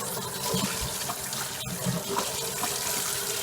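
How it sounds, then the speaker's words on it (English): Tap water runs steadily over Pampered Chef stoneware in a sink as it is rinsed after scraping, a continuous close splashing stream that stays at an even level throughout. "rinse it underwater"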